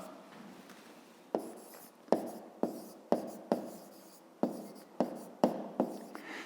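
A pen writes on paper, up close and quiet, with a rhythm of short scratchy strokes and small taps, some brief and some longer.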